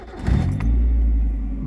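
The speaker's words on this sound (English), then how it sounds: "So we'll get the car started." A 1995 Mazda Miata MX-5 NA engine cranks briefly and catches, settling straight into a loud, close, steady idle rumble.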